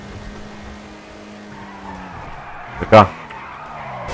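A car in GTA V skidding out of control, a short sharp tire screech near the end over a steady engine drone, with a brief spoken word.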